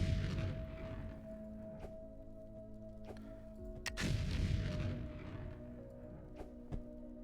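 Explosions blast through rock while digging toward lava caves in the factory-building video game Foundry: deep booming bursts, one near the start and a heavier one around the middle, over a steady low hum of machinery with no talking.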